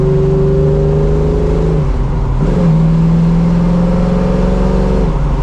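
A 1970 Ford Mustang Fastback restomod engine roars loudly and close, revving through rising tones with smooth gear changes, a steady powerful growl throughout.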